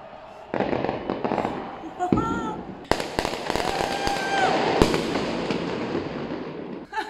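Firecrackers bursting in a street during a football celebration, sharp cracks and crackling bangs over a dense noisy background, with people talking and shouting throughout.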